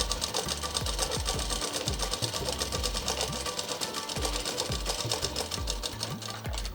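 Close, continuous rattle of a sewing machine stitching a frock sleeve in double seam, its rapid needle rhythm steady throughout with small bumps and knocks of the fabric being guided.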